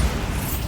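A Bombarda spell explodes in the Hogwarts Legacy video game, a short, dense boom with a heavy low rumble that holds steady for under a second, loud and close with no talk.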